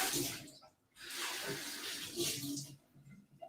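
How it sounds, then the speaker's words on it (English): Tap water gushes over a bar jigger to rinse off milky residue, two bursts of splashing flow broken by a brief pause, close and moderately loud. "Rinse the milky residue off my jigger."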